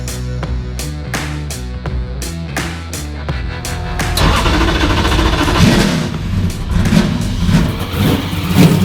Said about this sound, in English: I never even heard that car start.